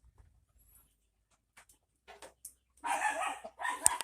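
A dog barks twice in close succession at a Jamaican game fowl yard, the barks loud and near after a mostly quiet stretch with a few faint knocks.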